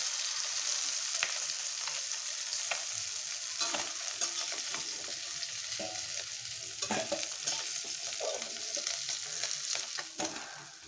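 Fish fries in hot oil in a home kitchen, a continuous close sizzle with occasional scraping and stirring clicks throughout, no voices.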